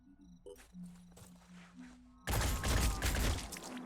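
Gunfire in the tactical strategy game Phoenix Point: faint clicks and a short interface tone, then a sudden loud burst of shots that stays sustained to the end, with no talk.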